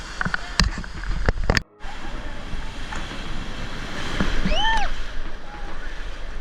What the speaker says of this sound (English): The waves are very strong here